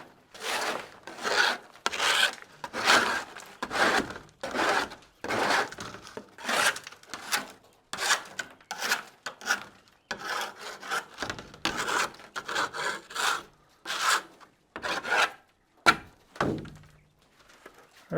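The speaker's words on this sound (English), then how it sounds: "Take the scraper." A scraper rasps droppings off a quail cage tray in a long run of short, close scraping strokes, some ending in dull wooden thunks, with a few brief pauses between them.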